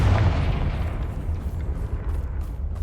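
A Confringo spell explodes in Hogwarts Legacy, one heavy close boom at the start that decays into a rumbling tail.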